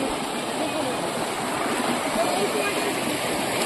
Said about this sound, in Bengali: চলে এসছি এখন যোগীঘাট ব্রিজের তলায় নদীতে।